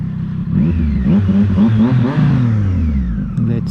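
A Triumph Street Triple 765RS with newly fitted clip-on handlebars revs hard as it accelerates for a wheelie, its engine note climbing and surging close up, then easing off.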